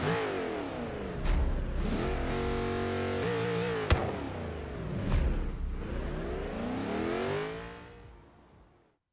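A car engine in Forza Horizon 3 revs up and down repeatedly, loud and close, with rising and falling pitch sweeps before fading out at the end.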